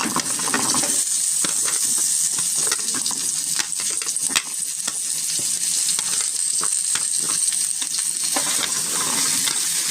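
Taro sautéing in a hot pan, a continuous loud sizzle and crackle with occasional scraping stirs and clinks of a utensil throughout.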